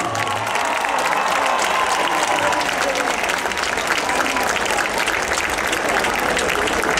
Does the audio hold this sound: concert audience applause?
yes